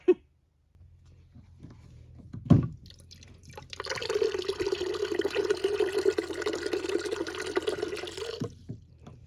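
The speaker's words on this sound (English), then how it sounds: "So you're just going to get some hot water from your tap." Hot water runs from a kitchen tap in an Alaska homestead kitchen, a steady rushing stream beginning after a brief clunk and continuing for several seconds before cutting off, fairly close and alone.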